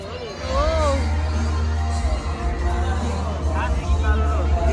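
A crowd at a perya fair shouts and cheers with whoops and overlapping voices over a steady low rumble, loud and close, with people talking nearby.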